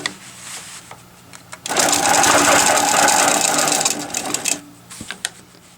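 A longarm quilting machine stitches a quilt border with a 1/4 inch foot, its rapid needle chatter rising for about three seconds at close range, with brief clicks and quieter gaps before and after.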